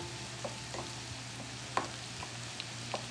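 Spoon stirring salt and pepper seasoning into a mixture, several soft scraping strokes and light clinks spaced irregularly, with a faint sizzle underneath.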